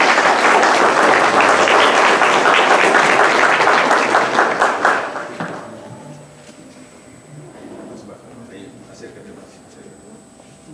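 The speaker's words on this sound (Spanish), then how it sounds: "a quien lo recibimos con aplausos" An audience at a book presentation in Peru applauds loudly to welcome a provincial representative from Pomabamba, the dense clapping lasting about five seconds before dying away into a quiet room.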